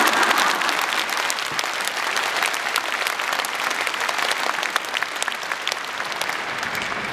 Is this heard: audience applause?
yes